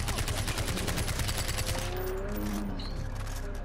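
AK assault rifle in Far Cry 4, firing rapid sustained automatic bursts of gunfire at close range, then tapering into quieter scattered game sounds.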